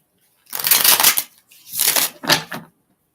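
Reading cards being shuffled by hand, three quick riffling bursts close to the mic with short pauses between them, no voices.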